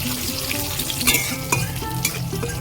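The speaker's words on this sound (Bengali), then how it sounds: "কড়ার মধ্যে তেল দেব জিরে দেব লঙ্কা কুচি দেব" Cumin seeds, chopped green chilli and torn dried red chilli frying in hot oil in a wok, a loud continuous close sizzle with a few sharp crackles and spatters, no voices.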